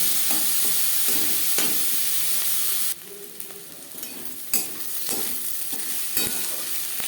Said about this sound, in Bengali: হালকা করে পেঁয়াজ ভেজে নেব।